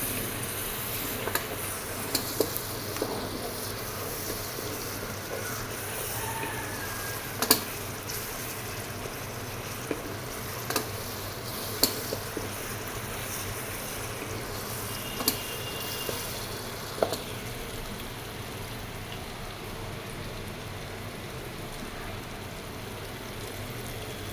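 Meat and onions frying in a pan for beef korma, a steady close hiss and sizzle running throughout with a few brief pops and clicks scattered over it.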